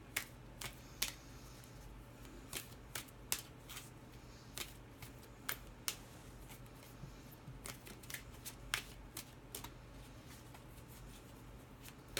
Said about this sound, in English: why don't we shuffle this bad boy up and see what we get